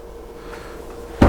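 A storage compartment built into a chair inside a 2017 Coachmen Chaparral 360IBL RV pops open with a single sharp, close thump near the end, after a stretch of quiet room tone.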